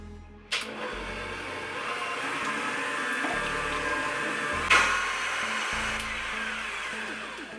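An electric mixer whirs steadily through brownie cookie batter. It starts with a sharp click and changes in pitch a few times as the speed shifts, with a brief clatter partway through.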